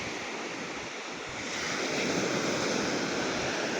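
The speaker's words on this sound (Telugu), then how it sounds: "ఇక్కడైతే రాళ్ళు ఎక్కువ లేవు ఎక్కువ శాండ్ ఉంది ఈ బీచ్లో ఉన్నాం మనం" Waves washing onto a sandy beach with few rocks, a continuous broad roar of surf that swells slightly louder partway through, mixed with wind buffeting the microphone.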